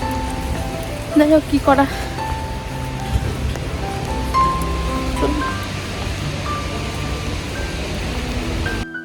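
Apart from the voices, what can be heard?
heavy rain pouring in Florence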